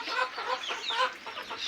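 Hens murmur and cluck softly and continuously in a coop during a cool evening just after sudden first rain, a steady low chatter of several birds close by with no voices.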